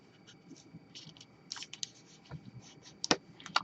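A single sheet of colored origami paper is flipped and folded, giving faint, close, scattered crinkles, taps and sharp creasing clicks that grow more distinct toward the end.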